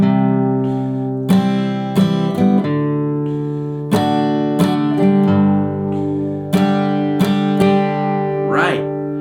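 An acoustic guitar alternates single low bass notes with bright strummed chords in a steady pattern, each chord ringing out clearly with no voices.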